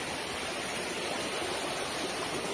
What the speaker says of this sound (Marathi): हा धबधबा, हा छोटा धबधबा आहे